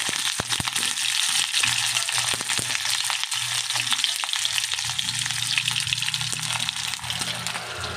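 Ginger and onion frying in hot oil for tinola, a loud continuous close sizzle with crackling pops and occasional stirring, without any talking.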